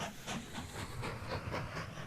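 Trains running in the railway-building game Mashinky, a faint, steady rolling rumble with rhythmic clickety-clack pulses and light hiss, continuous throughout and heard alone.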